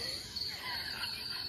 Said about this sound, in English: can you hear my pet crickets?